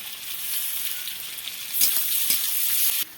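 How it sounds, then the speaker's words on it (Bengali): Onion and garlic hiss and sizzle in a hot pan for a village-style cabbage and fish-oil dish, a steady broadband fry that swells louder near the end before cutting off abruptly. "পেঁয়াজটা ভালো করে ভাজে নেব।"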